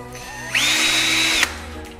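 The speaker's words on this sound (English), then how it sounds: "here's our drill. This is Ryobi drill." A Ryobi cordless drill fitted with a headlight sanding attachment spins up sharply, holds a steady high whine for about a second, then stops abruptly, close and loud with no talking.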